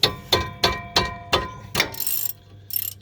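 A ratchet tightening bolts during a brake job on a Chevy Malibu Maxx: five sharp rhythmic clicking strokes close up, followed by quicker rattling bursts.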